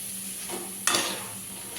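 Flattened rice (aval) fries in hot oil as a steady, close, hissing sizzle. A brief scrape of a ladle comes partway through.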